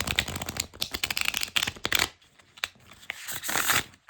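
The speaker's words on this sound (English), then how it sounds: "These are pretty comfortable to hold, so I don't anticipate any problems shuffling" Rapid riffling and flicking of a new deck of tarot cards being shuffled, a dense burst followed by a pause and another shorter shuffle.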